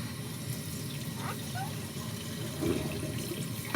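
Food is washed by hand in water at a sink with a continuous wash of running and swishing water nearby. There is a brief slosh near the end.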